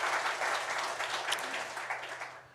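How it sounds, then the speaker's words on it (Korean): A church congregation at a Korean Sunday worship service breaks into fairly dense applause, moderately loud at first and slowly tapering off, with a low steady hum running underneath. "우리 하나님께 영광의 박수 올려드립니다"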